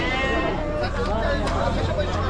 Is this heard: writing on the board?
no